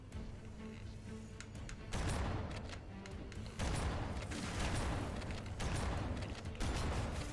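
Explosion during a Legendary playthrough of the Halo CE Anniversary video game, heavy booming bursts that swell into dense crashing rumble, with several surges over continuous loud game noise.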